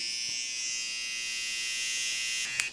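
An electric beard trimmer hums steadily at close range as it cuts through a beard during a post-haircut beard fade, the pitch holding constant before a brief click near the end.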